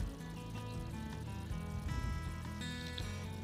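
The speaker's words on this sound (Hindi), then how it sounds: "आधा कप पानी ऐड कर रही हूँ मैं यहाँ पे" Half a cup of water is poured into a paneer masala gravy in a pan, a soft continuous pour over faint background music, with no talking.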